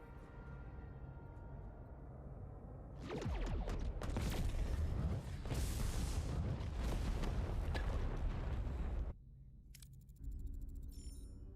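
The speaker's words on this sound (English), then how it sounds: "Kaboom!" Cobalt device explosion in Star Trek Voyager: Across the Universe, a loud roaring blast that swells in and rumbles for several seconds before cutting off, followed by quieter electronic tones.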